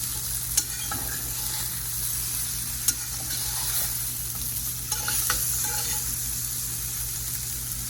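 Eggplant and potato curry, a Gujarati shak, gets stirred in a pan: a steady soft sizzle with a few sharp spoon scrapes and clicks against the pan, close and alone.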